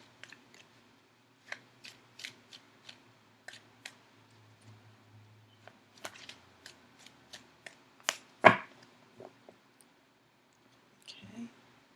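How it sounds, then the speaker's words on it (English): Tarot cards are shuffled by hand in a quiet room, giving sparse, crisp riffling snaps at irregular intervals, close and soft, with a louder flurry near the end and a faint voice in the background. "I will shuffle the cards for just a few more seconds."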